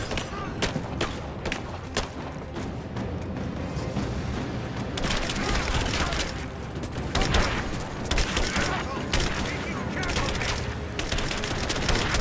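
Dense, continuous gunfire and booming blasts in Rise of the Tomb Raider in an abandoned mine, a steady loud barrage that thickens after the first few seconds, with voices shouting through it.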